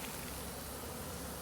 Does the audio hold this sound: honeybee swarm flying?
yes